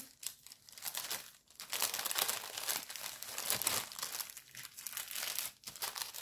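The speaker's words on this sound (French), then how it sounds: "je vais ranger les enveloppes, tout" Paper envelopes are crinkled, shuffled and put away in a steady run of close, crisp rustling and crumpling, with brief pauses between handfuls and no talking.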